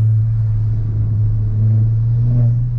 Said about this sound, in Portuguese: Essa trepidada mais seca que dá, você acha que é do pneu fino?